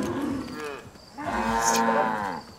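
A cow in the Far Cry 5 video game moos twice, a short low call followed by a longer, louder drawn-out moo, close and clear.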